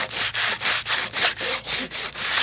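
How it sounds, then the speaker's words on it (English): Sandpaper of light grit rubs back and forth on old mine headframe wood in quick, even strokes, about ten passes, close and steady with no voices. "I'm going to just give it a really quick sanding first"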